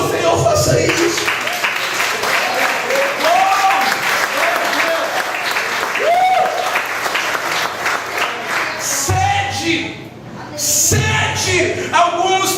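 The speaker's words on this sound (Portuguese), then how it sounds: "Você quer aplaudir ao Senhor? Faça isso." A church congregation applauds the Lord, sustained loud clapping with voices and shouts mixed in, briefly easing before swelling again.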